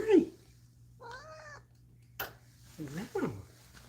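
A basement cat meows indoors in a few short harmonic calls, one drawn out and another rising and falling, with a steady low hum beneath and brief human voices nearby.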